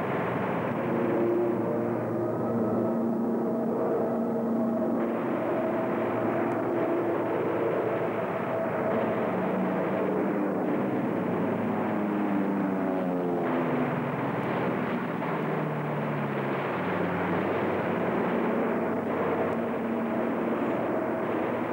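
World War II fighter planes in an air battle drone continuously, a dense roar of engines with rising and falling pitch sweeps as aircraft pass, steady and loud throughout.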